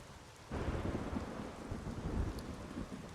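Rain and rumbling thunder in The Witcher 3, a soft hiss of steady rainfall that swells as a low thunder roll comes in and holds, fairly faint and with no voices.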